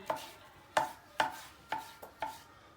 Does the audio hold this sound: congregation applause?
no